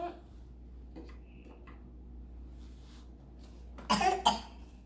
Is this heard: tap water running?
no